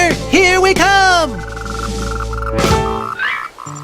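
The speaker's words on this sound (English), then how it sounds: "There is a Moltrecht tree frog here at the Chinan Nature Center on the banks of Liu Lake that just loves to learn." A Moltrecht tree frog croaks at a nature center on the banks of a lake. Loud, close croaks and calls rise and fall in a few bursts, with no talking.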